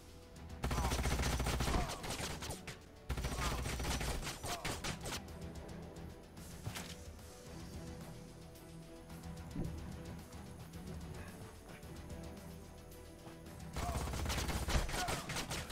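Units trading fire in Age of Wonders: Planetfall, a strategic sci-fi battle game: loud rattling volleys open and close the stretch, with quieter shots and effects between them under a low musical bed.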